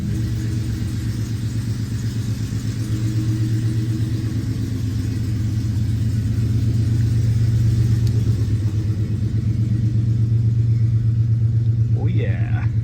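A 2011 Dodge Charger fitted with a 2010 5.7 Hemi V8 moves under its own power, a steady low engine rumble holding throughout with a slight rise in the middle.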